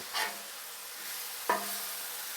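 Beef burger patty on a Weber griddle after flipping, a quiet steady sizzle with two brief scraping clanks of a spatula on the metal surface, no speech.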